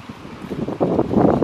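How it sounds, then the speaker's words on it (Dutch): Wind gusts outdoors buffet the microphone in a short, loud, rumbling burst that grows stronger partway through. "het waait hier"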